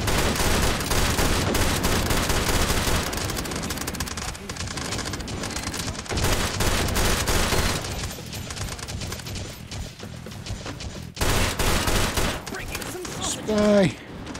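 Gunfire from the VR shooting game Hot Dogs, Horseshoes & Hand Grenades, fired unsuppressed: loud bursts of rapid shots crackle in dense volleys through most of the clip, with quieter gaps between them and a short vocal sound near the end.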